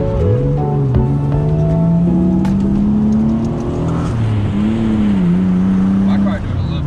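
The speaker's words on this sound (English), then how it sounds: "I thought your car was spitting back like that." A car engine drones and climbs in pitch as it revs, with sharp pops and crackles from the exhaust and people talking nearby.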